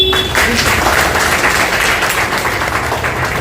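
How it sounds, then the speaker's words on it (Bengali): Crowd at a gathering for Amarnath pilgrims applauding again, a thick wall of hand claps at full strength from the start that carries on steadily for a few seconds. "ওকে যখন কাছে পেয়েছি ওর জন্য একটা হাততালি।"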